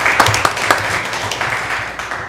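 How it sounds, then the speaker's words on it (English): People at a county commission meeting give a short round of applause for a staff member, a brief, moderately loud burst of mixed clapping from a small room audience. "the Burke County needs to give an applause to Hernandez"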